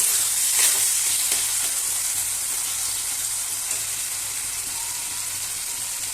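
Chicken mince and chickpeas sauté in a hot pan, a loud continuous sizzle with faint scraping of a spoon as the mixture is stirred, steady with no talking.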